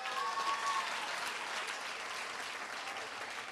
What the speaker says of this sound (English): Can I ask that everybody just gives a big round of applause to all our graduates?